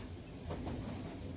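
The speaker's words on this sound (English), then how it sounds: "Yes, I'm on the train." Steady broadband rumble of a moving passenger train heard from inside the carriage, with continuous rolling noise and no distinct voices.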